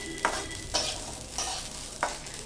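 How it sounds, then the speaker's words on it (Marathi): Masala roasting in a pan on the stove is stirred with a spatula, giving soft scraping strokes every half second or so over a faint steady sizzle, close and quiet, with no voices. "जेवढा मसाला खमंग भाजता येईल तेवढा भाजायचा"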